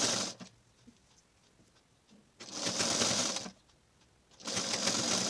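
A sewing machine stitches a square neckline corner in two bursts of rapid, close mechanical whirring, separated by a quiet pause, with no talking.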